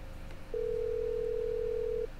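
In the game The Stalked, a phone call produces a flat, unbroken dial tone that begins just after half a second and runs steadily for about one and a half seconds before stopping abruptly, alone with no voices.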